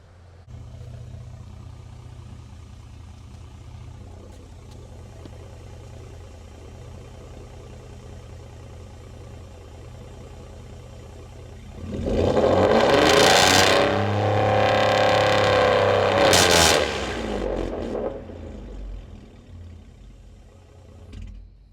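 A Ford Taurus Limited on its stock tune idles with a low rumble, then revs hard to around 4,000 RPM. The loud, rising roar is held for several seconds, then drops back to idle, recorded from behind the car.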